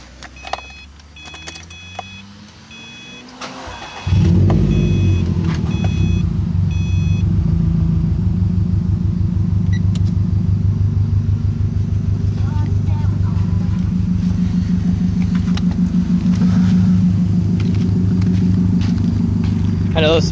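A 2012 Subaru STI with a stage 2 tune and nameless exhaust cranks briefly, catches with a loud burst, then settles into a steady, rumbling, slightly lumpy idle close by, with faint voices before the start.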